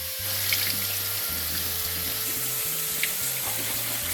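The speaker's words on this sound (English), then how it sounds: "let's come over, rinse our veggies" Tap water runs steadily into a kitchen sink while vegetables are rinsed for taco soup, a continuous close splashing hiss with a few brief clinks.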